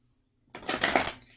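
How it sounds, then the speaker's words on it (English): Energy Oracle deck cards being shuffled, a short burst of dense riffling clicks and flutter after a moment of silence, close and fairly quiet. "These are not the easiest cards in the world to shuffle"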